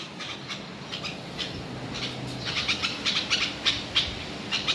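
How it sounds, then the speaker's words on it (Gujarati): Sparrow chirps repeat near and moderately loud over a soft background rustle as it comes to bathe at midday, growing busier and more rhythmic toward the end. "ચકલી આવી ગઈ નાવા"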